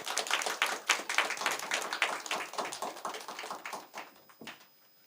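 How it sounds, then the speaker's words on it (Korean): A church congregation applauds during a Sunday service, a dense patter of many hands clapping loudly at first, then thinning and fading out near the end. "축하의 박수 드리겠습니다"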